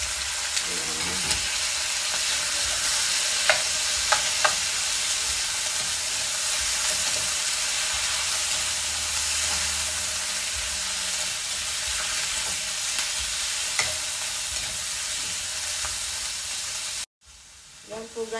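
Chicken frying in a pan with garlic and ginger gives a loud, continuous close sizzle and hiss, with a few faint clinks of stirring and a brief cut near the end.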